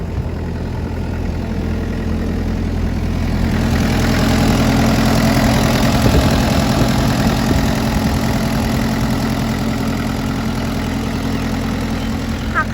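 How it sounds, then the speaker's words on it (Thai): A Kubota four-cylinder diesel engine on a 5-ton excavator idles steadily close by, a constant low chugging hum that swells slightly midway and keeps running with no voices. "เครื่องยนต์ตัวนี้จะเป็นคต้าสี่สูบนะคะ"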